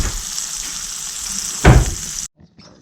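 Walleye fillets sizzle loudly in a hot pan, a dense close frying hiss with one sharp burst of crackling before the sound cuts off abruptly.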